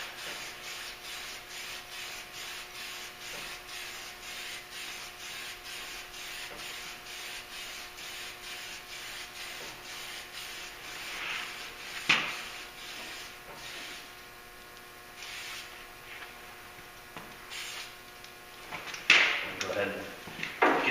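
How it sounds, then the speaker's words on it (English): Automotive sealer is sprayed in short rhythmic bursts over a repaired trailer fender, a repeated hissing spray pattern at close range, with a few clunks and knocks toward the end and a voice speaking at times. "I'll shoot a coat of sealer over this real quick right before I get ready to paint it."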